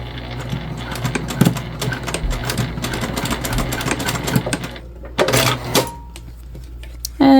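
A sewing machine runs in quick rattling stretches while basting fabric for a Mav Pack backpack, its clatter steady for several seconds before a pause and then a few shorter bursts.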